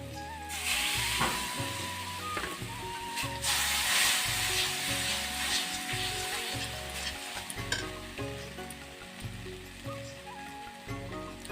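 Masala of turmeric and chili powder fries in a pan with a splash of water for a vegetarian ridge gourd dish, giving a loud, continuous sizzle with a rhythmic stirring scrape running throughout.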